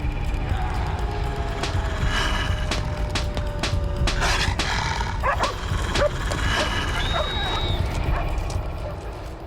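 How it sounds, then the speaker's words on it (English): Coyotes and dogs at a nearby farmhouse yelp and yip in a frantic chorus over a loud, constant wind roar, with sharp barks and whines rising and overlapping throughout. "The frenzy of noise seems to attract the attention of the dogs in the nearby farmhouse."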